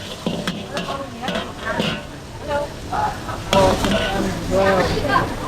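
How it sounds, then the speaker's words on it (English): Char kway teow fried noodles being stir-fried in a wok over charcoal at a Penang street food stall, with loud sizzling and scraping strokes of a spatula in irregular bursts, with nearby voices over them. "frying it over charcoal like that"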